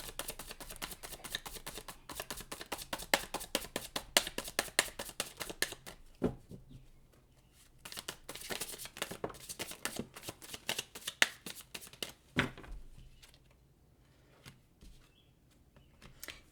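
Tarot cards being shuffled in rapid riffling bursts, close and crisp, stopping now and then for sharper single snaps as cards are drawn and laid down.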